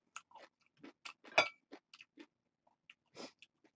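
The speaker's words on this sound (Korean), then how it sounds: "그 다음에 또 깍두기 먹어주고" Cubes of kkakdugi radish kimchi are chewed up close during a meal of spicy pollock roe stew, with irregular crisp crunches and bites separated by short quiet gaps.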